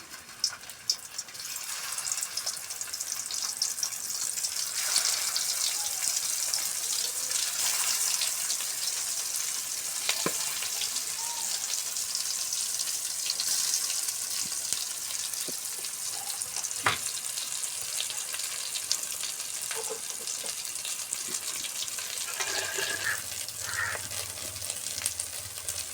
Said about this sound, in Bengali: মাছগুলো ভাজার জন্য তেলটা গরম হয়ে গেলে দিয়ে দিতে হবে মাছগুলো একে একে